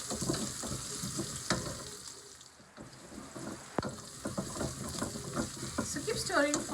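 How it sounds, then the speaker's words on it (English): Onions, slit green chilies and curry leaves sizzle and fry in a pan while being stirred for sambar, with soft scraping strokes and a steady crackle, fairly faint and close. "keep stirring so that this chilies, onions and the curry leaves cooks well"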